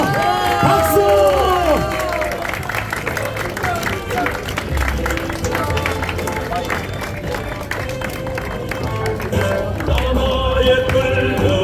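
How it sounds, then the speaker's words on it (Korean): Crowd applause and cheering at an outdoor rally over a disputed election ruling, a steady dense wash of clapping with scattered shouts and voices mixed throughout. "박수 부탁드립니다. 박수."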